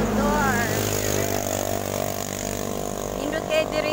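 Motorcycle engine running steadily and close by throughout the whole ride, with a low continuous drone, a faint higher whine on top and a brief tonal rise near the end.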